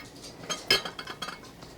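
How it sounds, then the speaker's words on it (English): Blue and white ceramic dishes clink and knock together as they are handled, a few light, close taps scattered over a couple of seconds with one sharper clink near the middle. "I brought up some of my blue and white dishes."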